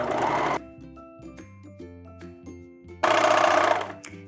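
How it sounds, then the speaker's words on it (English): A serger stitches the shoulder seam of a T-shirt dress with a 3/8-inch seam allowance, running in two loud, steady bursts separated by a quiet pause, with no talking. "So we're just gonna serge this shoulder up."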